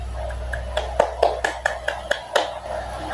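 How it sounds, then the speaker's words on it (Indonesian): Scattered hand claps in a primary school classroom during a Qur'an recitation lesson, a thin, uneven patter of a few children clapping close by, with faint voices underneath. "Tepuk tangan untuk Gesti dan kita semua."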